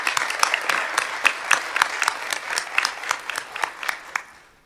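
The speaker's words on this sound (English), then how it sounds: "if we could give them one more round of applause for all they've done" Applause for a marketing team at a committee meeting, a room full of people clapping in dense bursts for about four seconds before fading out at the end.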